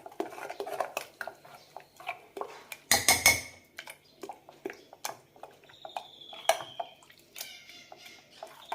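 A pot of Kerala-style spinach and lentil curry (parippu cheera) being stirred after ground coconut paste, water and salt go in, giving repeated metal scrapes and clinks of a spoon against the pot in an irregular rhythm, close and moderately loud.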